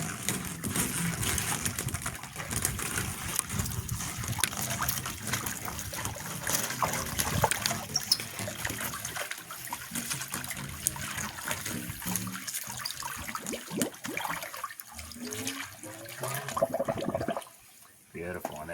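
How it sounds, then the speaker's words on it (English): A pool vacuum hose is fed down into the water to push the air out and prime the line, giving continuous bubbling, trickling and splashing close by, with a pump running underneath, until the sound drops away near the end. "you want to just feed the hose down into the water, and that'll push all the air out of the line"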